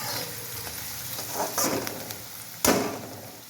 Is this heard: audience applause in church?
no